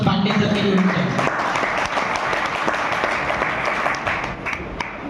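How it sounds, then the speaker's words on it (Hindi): An audience at an AWPL company event in Ghazipur applauding loudly, a dense sustained wash of clapping that tapers slightly toward the end, with a voice over it at the start. "मैं चाहूंगा कि एक जोरदार ताली"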